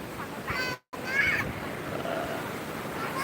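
Ocean surf washing onto Seminyak beach in Bali, a broad steady wash of waves with wind, briefly cut by a moment of silence, with faint distant voices.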